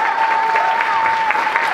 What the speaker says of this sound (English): Give a round of applause to the church.